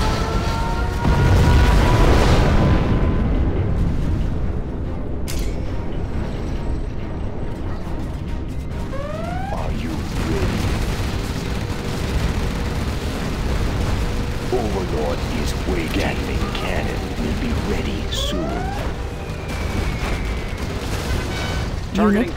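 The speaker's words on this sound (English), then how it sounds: "We have launched our nuclear missiles." Nuclear missile explosions in the video game Command & Conquer Generals Zero Hour: a loud, continuous roaring blast with rumbling impacts and whooshing sweeps throughout.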